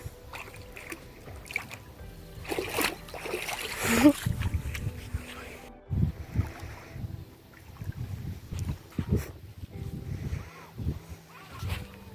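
A small child splashes in shallow water at a beach, giving scattered, uneven splashes and trickles with occasional louder bursts. Adults talk throughout.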